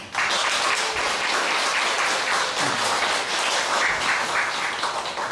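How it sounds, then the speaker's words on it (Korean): A church congregation at a Sunday Anglican Eucharist breaks into a big round of applause thanking the preacher, dense, steady clapping that fills the room for several seconds with no talk over it. "정아름 부장님께 감사의 큰 박수"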